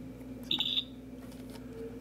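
A Minnie Mouse toy smartphone plays its camera sound effect, a brief, bright electronic chirp over quiet room hum.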